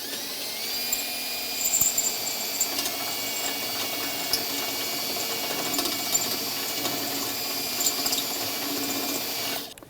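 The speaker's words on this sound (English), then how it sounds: "So grab yourself your step bit or your drill bit, match that size" A step bit drills a hole for a rivnut in a heavy-duty skid plate kit on a Toyota Tundra, giving a steady whining grind with small scraping bursts that carries on through the whole stretch and stops abruptly at the end.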